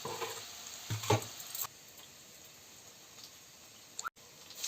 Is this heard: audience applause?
no